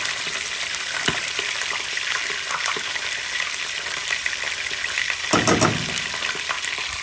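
Onions fry in a pan with a steady, close crackling sizzle, broken by a few stirring scrapes and a louder burst of hissing near the end, with no voices.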